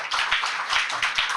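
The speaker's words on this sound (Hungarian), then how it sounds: "Tapsot neki!" A live audience applauds a guest speaker at a talk event, with steady clapping at close range for a brief moment and no voices over it.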